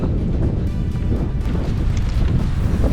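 Wind buffeting a GoPro Hero 9 microphone during a run, a loud, continuous low roar with shifting gusts throughout and no talking.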